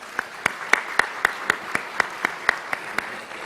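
Applause at a Stanford middle-grades math conference for an organizer, heard as a steady rhythm of distinct, evenly spaced claps over a soft crowd wash, moderately loud.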